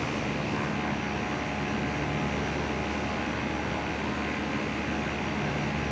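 Airplane landing at runway 02 of an airport in a flight simulator video game, a steady broadband engine and air roar holding level and continuous throughout with no talk.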